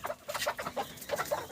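Domestic hens kept in a backyard pen cluck in short, close, repeated bursts, a steady run of soft calls with no voices over them.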